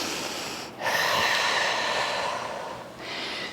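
One long, close breath pushed out steadily for about two seconds while kneeling on a Bosu ball during an overhead press core workout, with a softer breath around it and no talking.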